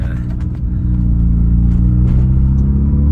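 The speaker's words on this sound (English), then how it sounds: "old red sports car that makes a lot of noise" A deep, steady rotary engine rumble from an old red Mazda RX-7 FD with strong low harmonics, swelling slightly as it revs, loud and close throughout.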